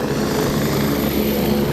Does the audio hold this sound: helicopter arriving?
yes